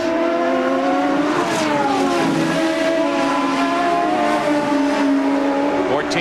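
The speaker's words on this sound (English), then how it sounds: "Two Ford engine cars, 193 miles an hour we saw Boisel do earlier, into the braking zone" Ford-engined CART Indy cars at Road America in 1993 race into a braking zone near 193 mph, engines winding down and then revving back up loudly and continuously, close by, with faint commentary underneath.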